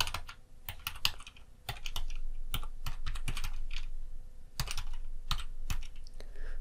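Keys clatter on a computer keyboard while code is entered, bursts of quick close clicks broken by brief pauses, crisp and steady with no voices.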